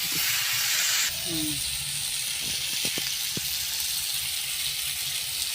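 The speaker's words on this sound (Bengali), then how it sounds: "এবার আমি জল ঢেলে দেবো" Water is poured into a hot pan of spiced potato curry, giving a loud bright hiss of steam that cuts off after about a second, followed by quieter bubbling and a few light clicks.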